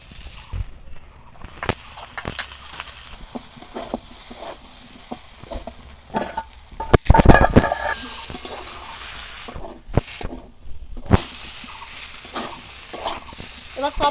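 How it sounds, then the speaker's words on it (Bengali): Vegetables for Bengali shukto sizzle and are stirred in a pan with mustard, poppy seed and green chilli paste, a steady close frying hiss with scraping stirs and a louder burst midway. "এবার সব মশলা একদম ভালো করে কষানো হয়ে গেছে।"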